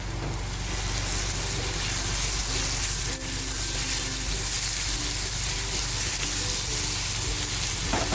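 Onion and chili fry in a pan with a steady, loud, continuous sizzle that holds evenly throughout, close and unbroken, with no voices.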